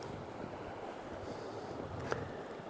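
Shallow water of the Frio River running steadily over a rocky bottom, a continuous close-up wash with a faint breezy hiss and no voices.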